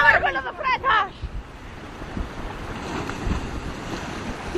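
Sea waves wash ashore at a beach, a broad steady rush of surf with low rumbling and wind noise on the microphone, after a voice speaking at the start.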